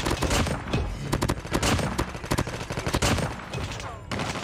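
Rapid bursts of AK117 rifle fire through a monolithic suppressor in Call of Duty Mobile, loud and close. The shots come in dense, continuous volleys with only brief gaps.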